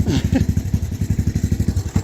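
A trike engine, burning oil and fouling plugs, idles close by with a steady, lumpy low chug, its rhythmic pulses even and unbroken for the whole stretch.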